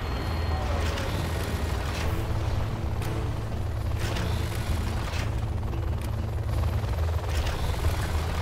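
Aircraft engines droning in the real-time strategy game C&C Generals Zero Hour, a steady loud helicopter-like whir with faint distant booms throughout.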